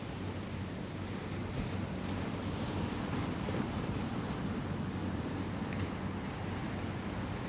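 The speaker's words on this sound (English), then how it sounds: "Enjoy the beautiful sound of the waves." Steady ocean waves and surf wash in continuously, with a rushing, wind-buffeted roar that stays even and fairly close throughout, with no voices.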